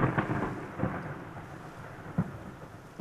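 Cartoon thunder from a rain cloud, several short rumbling cracks spaced apart over a soft hiss of rain, fairly close and loud with no voices.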